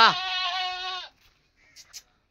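A goat bleats once at a livestock market, a loud, close, wavering cry lasting about a second, followed by faint background voices and small noises.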